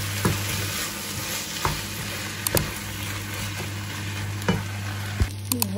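Chopped aubergine frying over medium heat in a pan, a steady close sizzle broken by occasional scraping clicks of stirring.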